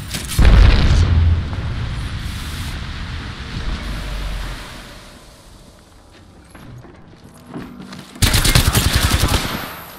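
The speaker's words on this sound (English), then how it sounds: "Opening fire on the enemy." Gunfire and explosions in the Apex Legends battle royale game: a heavy boom opens, sustained firing and rumble follow, and a loud automatic burst closes.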